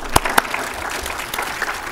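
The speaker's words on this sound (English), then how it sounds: "Let's take a round of applause." An audience in a city council chamber applauds in a brief round of dense clapping, with a few louder, sharper claps standing out near the start.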